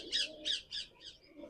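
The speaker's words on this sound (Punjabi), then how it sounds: "ਦੇਖੋ ਕਬੂਤਰ" Pigeons of the Bindar Phulla bloodline, dark red and black Chinese varieties, give three or four close, raspy squawking calls in an uneven rhythm, with a quieter call near the end.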